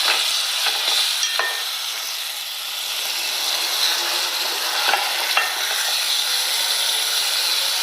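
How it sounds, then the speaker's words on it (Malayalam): Chicken fries in a pan with a continuous sizzle and light stirring scrapes, steady and close, with no voices. "ഇനി ഇതിലേക്ക് നമ്മൾ ചിക്കൻ ഇടാം"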